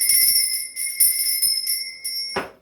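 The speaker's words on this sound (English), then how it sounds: "I'm going to be ringing this bell. This is just to cleanse the space around us." A small handheld bell, rung to cleanse the space, gives a string of bright, clear rings with long shimmering tones, struck repeatedly at an uneven pace, close and alone with no talking.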